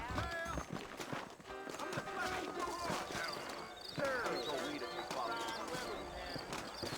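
Horses trot in the Red Dead Redemption game on PC, leaving a town called New Albany. Steady rhythmic hoof clops run through the whole stretch, close and clear, under frequent spoken dialogue.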